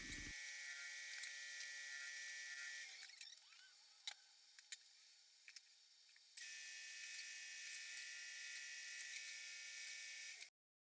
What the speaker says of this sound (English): I decided to cut these on the table saw.